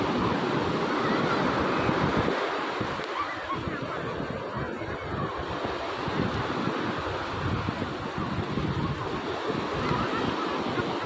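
Steady broadband roar of sea surf and wind at Velankanni, continuous and fairly loud throughout, with a few faint honking sounds mixed in.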